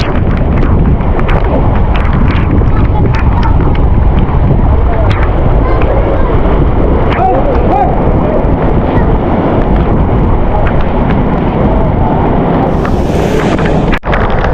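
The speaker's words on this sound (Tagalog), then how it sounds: "At nagsisimula nang lumakas yung hangin dito sa labas." Steady, loud typhoon wind roar buffeting the microphone outdoors, with a constant rushing low rumble throughout and a brief sharp knock near the end.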